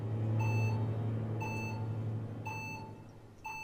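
Electronic beeps sound at steady intervals of about a second, clear and tonal, over a low humming background, in the video game Biomutant.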